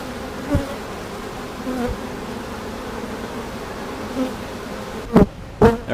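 Honeybees hum steadily around an open hive on a small farm, a dense continuous buzz with a few louder passes close by, near the end especially.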